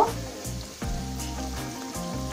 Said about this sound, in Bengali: এরকম ভাবে আমি উল্টিয়ে পাল্টিয়ে 5 মিনিট ভেজে নেব